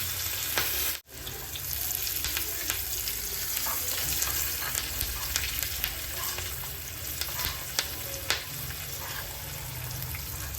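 Mustard and other tempering seeds with asafoetida fry steadily in hot oil, a continuous close sizzle with faint stirring clicks and a brief dropout near the start.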